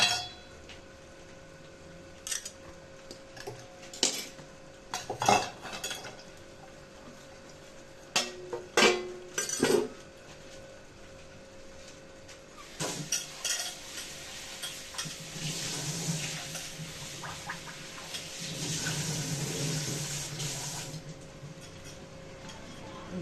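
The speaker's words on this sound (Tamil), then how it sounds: "எண்ணெய் காஞ்சிருச்சு நம்ம இந்த வெங்காயத்தை போட்டுக்கலாம்" Onions dropped into hot oil for a mushroom gravy: a few clinks and stirring knocks at first, then a steady hiss of frying building up and holding, close and moderately loud, no talking.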